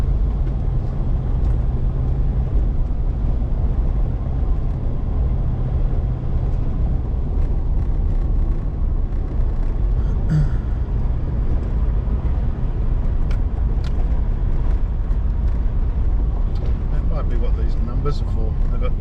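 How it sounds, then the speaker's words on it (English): A 4WD vehicle crawls along a forest off-road track in fourth gear low range, its engine giving a steady low drone throughout with body rattles and knocks, while someone talks intermittently over it. "So now I'm in fourth gear, low range"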